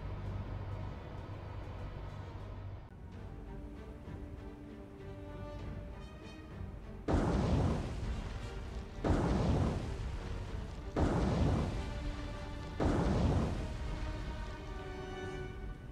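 Warship guns firing in War on the Sea, a naval game: four heavy booming salvos at roughly two-second intervals, loud and broad, following a quieter stretch of low rumbling ambience.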